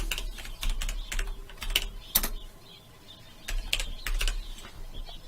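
Fingers type on a computer keyboard in clustered bursts of sharp clicks, with a short lull in the middle, close and clear with no talking.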